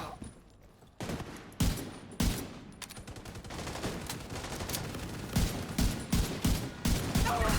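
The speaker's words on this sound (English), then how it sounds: "I guess I'll shoot him again!" Rapid video game gunfire, dense bursts of shots over a constant loud battle din, with sharp reports coming in clusters that grow thicker toward the end.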